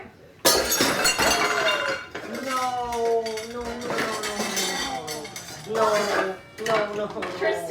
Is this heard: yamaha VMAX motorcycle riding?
no